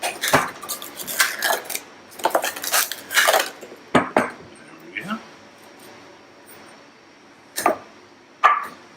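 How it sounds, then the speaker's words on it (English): Eggs and a full cup of sugar whisked in a bowl, with sharp metal clinks and scraping in irregular bursts, some brief and some longer, under a voice talking between strokes. "And we'll whisk that together."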